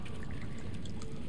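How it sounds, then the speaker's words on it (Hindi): Water pours and drips steadily in a dark video game forest, a continuous wet trickling wash with a few brighter splashy drops near the end, fairly loud and with no talking. "पानी गिरने की टपकने की आवाज भी कितनी भयानक लग रही है यहां पे"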